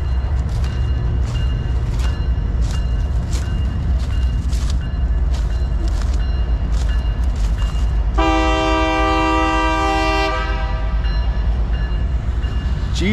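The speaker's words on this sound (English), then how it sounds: "Train's starting to go." A freight train rumbles past at close range with a steady, loud roar and rhythmic clatter, then its horn blasts in a long sustained chord for about two seconds before the rumble continues.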